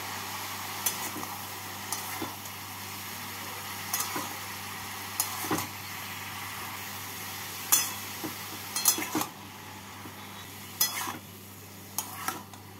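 Snake gourd tossed with salt, turmeric and red chilli powder in a pan gets stirred with a utensil, producing scattered scrapes and taps every second or so over a faint, steady sizzle, quiet and close.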